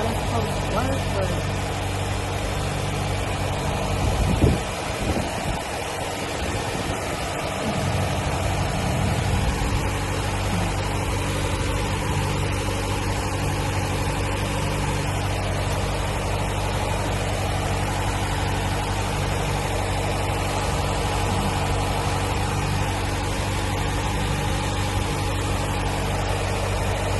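A car engine idles steadily after a throttle body replacement, with a constant low hum and a brief disturbance early on, while someone talks over it throughout.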